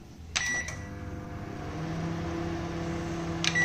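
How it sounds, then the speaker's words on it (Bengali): A microwave oven, switched on at high power to heat homemade naru and pera sweets, hums steadily and fairly loud after a couple of short clicks and beeps at the start. "এই দুটো জিনিস আমি প্রথমে একটু মাইক্রোওয়েভে ঘুরিয়ে নেব"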